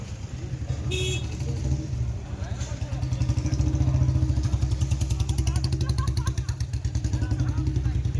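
Motorcycles start and ride off from a village on a trip through flooded roads: close engines putter in a fast, rhythmic beat that grows stronger, with a short horn toot near the start and people talking over them.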